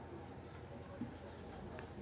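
Faint scratching of writing on a board during a class 10 maths lesson on quadratic equations, with short strokes over a quiet room hum.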